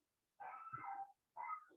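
A dog barks at a squirrel outside, two short close barks separated by a brief pause, with no other sound around them.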